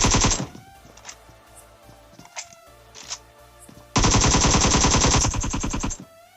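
Automatic gunfire in the PUBG Mobile battle game: a loud opening burst, a few scattered single shots, then a long, sustained rapid volley close up, with no talking.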